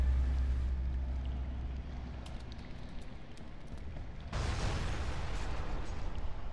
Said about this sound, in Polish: Eksplozja.